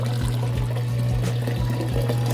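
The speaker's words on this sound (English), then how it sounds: "it's still pumping out water relatively strong" An aquaponics water pump pours a strong stream of water, giving a steady splashing flow with soft rhythmic gurgles, close by and with no talking.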